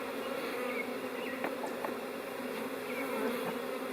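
Honey bees hum steadily around a hive during a swarm-catching attempt, a dense, continuous buzz with occasional nearer individual bees passing, moderately loud and with no talk.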